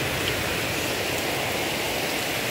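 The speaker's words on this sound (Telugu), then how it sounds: "వర్షం జాలు వారుతుంది చూడండి, వరదలు కారుతున్నాయి" Heavy rain pouring down steadily during sunshine in Karimnagar, a dense, loud, unbroken wash of hiss close by with no gaps and no voices.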